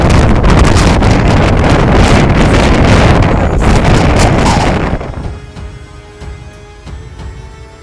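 Powerful wind gusts roar and buffet loudly on the summit of La Soufrière for about five seconds, then drop away abruptly, leaving a quieter, gusty lull.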